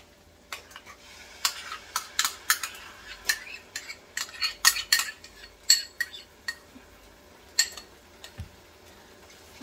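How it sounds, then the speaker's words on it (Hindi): A spoon stirring yogurt into a fish biryani mixture in a pot, with irregular scraping and clinks of metal on metal at close range, fairly quiet and with no talk. "अच्छी तरह से इसे मिक्स करेंगे।"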